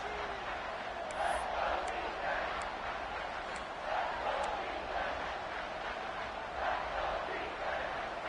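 Stadium crowd noise in an NCAA 26 college football video game, a continuous roaring wash of fans with swelling cheers and a few sharp whistles, heard steadily throughout.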